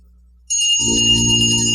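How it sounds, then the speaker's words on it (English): Many house bells ring at once as a radio drama sound effect, bursting in suddenly and sustaining as a loud, bright, overlapping metallic clangor. "Every bell in the house must be ringing."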